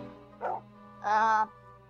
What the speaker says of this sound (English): I think the dog's hurt.